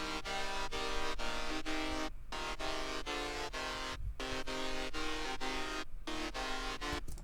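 EDM synth chords played in a steady rhythmic pattern, bright sustained stacked tones cut by regular short gaps, loud and alone with no voice.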